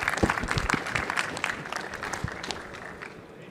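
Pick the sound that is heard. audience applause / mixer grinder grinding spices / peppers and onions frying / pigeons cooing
audience applause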